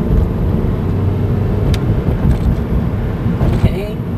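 A manual transmission car's engine drones loud and steady through a first-to-second gear misshift, with a rough rumbling note and a brief change in pitch near the end.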